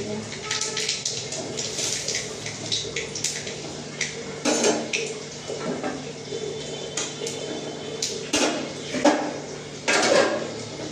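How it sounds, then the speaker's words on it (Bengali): Small tangra fish tipped into a cooking pot with water in a home kitchen, splashing and clattering bursts against the metal pot amid utensil clinks, with someone talking between. "আর এই ট্যাংরা মাছগুলো আমি ঢেলে দেবো"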